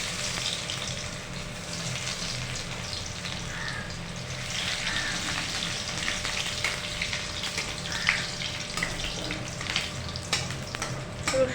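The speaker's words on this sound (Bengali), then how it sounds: "এবার আমরা তেলের মধ্যে দিয়ে দিচ্ছি শুকনো লঙ্কা, আর দিয়ে দিচ্ছি থেতো করে রাখা রসুনটা" Dried red chillies and crushed garlic frying in hot oil in a pan, a loud, continuous close sizzle with occasional crackles and soft stirring scrapes, no talking.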